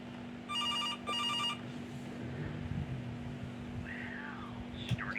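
Inside a horror video game, a telephone rings in two short electronic bursts, fairly faint over a low steady hum, followed by quieter scattered tones and clicks.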